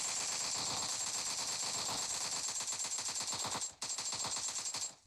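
A machine gun in PUBG Lite fires in rapid, even bursts, sustained for several seconds, with a brief break before the shots resume and then trail off; the gunfire is loud and close.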